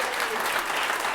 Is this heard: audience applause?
yes